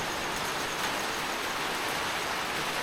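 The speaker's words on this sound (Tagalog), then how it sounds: "Ulan." Steady broadband hiss of rain dripping and pattering, constant and fairly close, with no voices.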